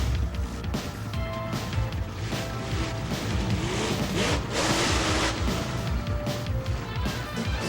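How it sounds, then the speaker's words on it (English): A twelve-foot-wide monster truck drives over cars, its engine roaring continuously while metal crunches and bangs in heavy repeated impacts, loud and close for several seconds. "Car crushing"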